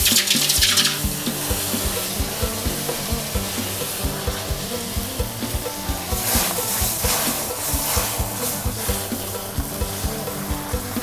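Coconut milk pours into a pan for a Thai red curry with featherback fish, a steady watery rush, while rapid rhythmic tapping and light bubbling run underneath throughout.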